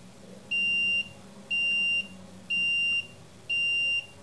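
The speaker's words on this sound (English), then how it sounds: "you hear the beeper, the plates are turned off" A UV artwork transfer box's countdown timer beeper sounds four times, even half-second electronic tones repeating once per second, loud and clear over a quiet background.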